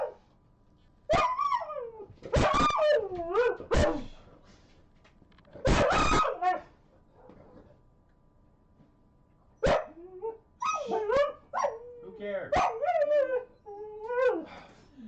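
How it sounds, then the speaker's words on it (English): Neighbourhood dogs bark and howl close by in repeated bursts, with yelps and drawn-out wavering cries separated by short pauses, and a person speaks briefly between them. "every time I turn around, they bark, bark, bark"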